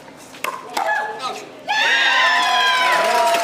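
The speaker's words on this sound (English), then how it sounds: "there's a lot more noise on the side of DC right now. You can guarantee this crowd is behind them" Crowd at a pickleball pro match (D.C. team versus Carolina) roars in cheers after some brief court noise, the cheering rising sharply and holding loud and sustained.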